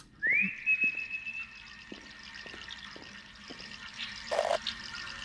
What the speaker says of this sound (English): Press space to whistle